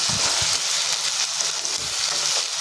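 Finely chopped potatoes and tomatoes sizzling in a pan while being stirred for a Gujarati amaranth-leaf curry, with a steady hiss of frying and a few dull scraping stirs of the spoon; no speech.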